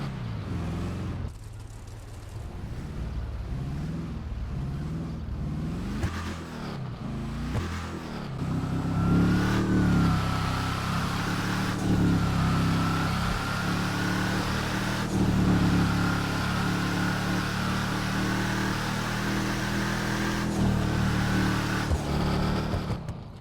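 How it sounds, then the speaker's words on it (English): A supercharged V8 engine of the Gauntlet Hellfire muscle car in the game GTA 5 rumbles and revs, swelling louder midway into a sustained throaty roar with occasional pitch changes. "let's start with the sound, where we can hear supercharged V8"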